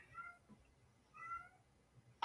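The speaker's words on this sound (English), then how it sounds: "this cat's going wild over here as well" An indoor cat meows twice in drawn-out, wavering calls, then gives a short, sharp yowl at the end, fairly close but quiet, over a low background hum.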